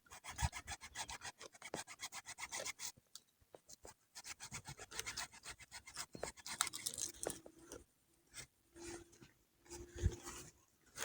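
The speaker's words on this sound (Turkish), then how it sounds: "küspemi sağından ve solundan testere ile iyice şu şekilde kesiyorum" Close, rough rasping of a saw cutting crumbly fishing bait cake, in quick back-and-forth strokes with short pauses between bursts.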